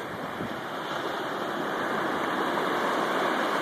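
Ocean surf on a beach rushes in a continuous broadband wash that swells slightly louder toward the end, steady and close, with no talk over it.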